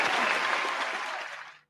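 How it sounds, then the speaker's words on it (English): A small group of people clapping on a talk show for a guest's introduction, a dense burst of applause lasting under two seconds before cutting off abruptly. "That was us clapping."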